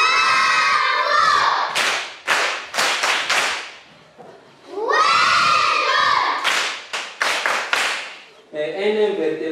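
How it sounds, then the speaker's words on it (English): Schoolchildren in a classroom bursting into loud rhythmic group clapping and shouting, two energetic rounds of rapid claps and cheers close by, with a brief lull between them. "On applaudit fort."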